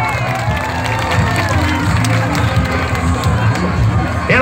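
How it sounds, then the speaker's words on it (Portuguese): A loud outdoor crowd at a beach beauty pageant cheers and shouts for a teenage contestant taking the stage, with many voices and children yelling over some clapping and music. "Uma salva de palmas para ela."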